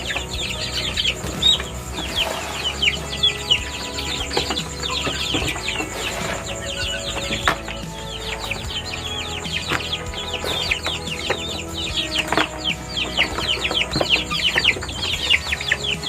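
Free-range village chickens kept with Muscovy ducks behind a house cluck and squawk in a busy, overlapping chorus, with sharp calls popping up close by throughout.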